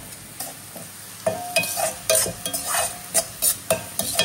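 Liver frying in a pan while being stirred, a steady sizzle broken by repeated scraping strokes of a spoon against the pan, close and fairly loud, with no talking.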